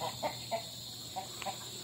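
A chicken clucking nearby in a rural yard, several short separate clucks in an uneven rhythm over a steady low background hum.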